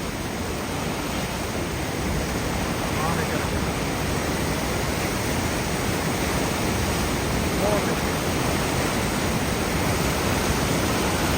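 Continuous dense roar of the Sutlej river rushing past under strong pressure, loud and close, a broadband wash with no breaks over the whole stretch.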